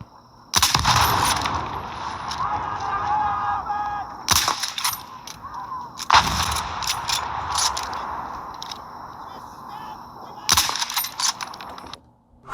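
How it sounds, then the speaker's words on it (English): Gunfire and effects from a shooting video game, played back through a budget gaming headset: bursts of rapid, loud shots with mechanical clanks and reloading clicks, separated by brief lulls. "Moving on to a shooting game. Let's see how it sounds, all the effects."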